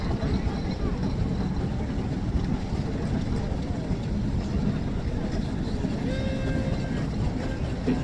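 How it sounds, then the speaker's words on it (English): A 6-ton Babcock and Wilcox steamroller runs at a steam rally, giving a steady, continuous low mechanical rumble with a faint whistle-like tone near the end, with a busy outdoor crowd murmuring throughout. "Following up from the Fowler large ploughing engine is a somewhat diminutive 6-ton Babcock and Wilcox steamroller"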